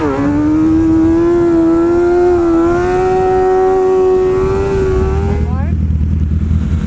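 Loud motorcycle riding on the road, its engine holding a steady droning pitch that rises slightly before easing off near the end, close and continuous.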